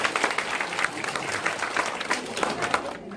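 An audience at a Korean ceremonial congratulatory speech breaks into sustained clapping, a dense, loud patter of many hands lasting throughout with some crowd murmur mixed in.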